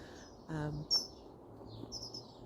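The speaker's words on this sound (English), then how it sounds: "Listen to the birds." Birds chirping in a garden first thing in the morning, with a few short, faint calls and tweets scattered through a quiet outdoor background.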